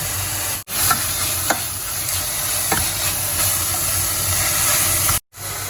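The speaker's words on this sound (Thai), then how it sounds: "ลงผัดกับหอมกระเทียมที่สับละเอียดค่ะ" Beef stir-fried in a pot with finely chopped shallots and garlic sizzles in a loud, steady hiss, with a few scraping stirs and two brief dropouts in the sound.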